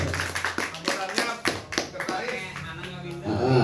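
An audience clapping hands at a technicians' gathering in Bogor, a burst of scattered claps from a small crowd nearby, mixed with a voice speaking over and after it.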